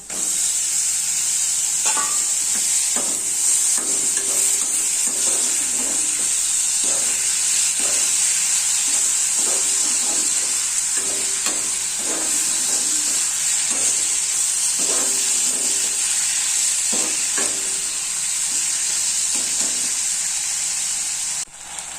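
Prawns fry in a hot pan with chilli powder, garam masala and pepper, a loud continuous sizzle and hiss under repeated scraping stirs of a spoon against the pan, with no talk over it.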